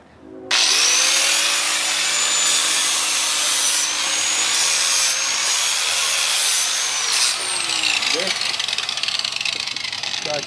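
An angle grinder with a sanding flap wheel strips rust from the steel edge of a snow plow blade, giving a loud, continuous high whine and grind up close after a short quiet start.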